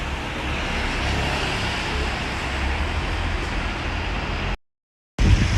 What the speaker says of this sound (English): Look at these buses right here.